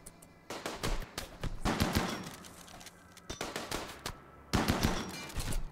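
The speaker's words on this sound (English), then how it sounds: "Bosco is shooting." Pawns trade gunfire in the Rimworld video game: rapid bursts of sharp shots crackle in clusters with short pauses between volleys, loud and close, with no talking.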